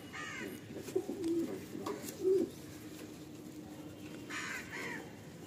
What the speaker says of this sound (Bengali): ফিমেল পায়রা